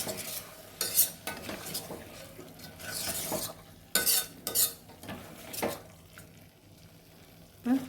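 Ingredients for a bone soup sauté in a pan with a soft sizzle, broken by several sharp bursts of a utensil stirring and scraping against the pan, heard up close.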